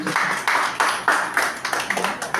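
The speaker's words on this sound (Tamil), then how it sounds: "அவருக்கு நமது கைத்தட்டங்களால் வரவேற்பு வாழ்த்து" An audience at a Tamil literary and music talk gives a welcoming round of applause. The dense, steady clapping rolls on in even surges throughout the short stretch, with no voices.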